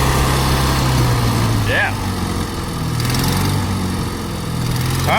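A Miller welder's engine idles and hunts, its steady low drone wavering in pitch as it drops back to low idle, close and loud, with a short spoken word over it.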